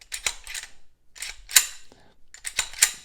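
A Smith & Wesson SD9VE pistol with an empty magazine inserted, its slide racked repeatedly and failing to lock open, giving close, crisp metallic clacks in quick pairs with short pauses between.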